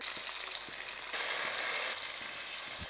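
Onions frying in a pan while a fish curry is being made. A steady, close sizzle swells louder for about a second in the middle, with faint utensil taps scattered through.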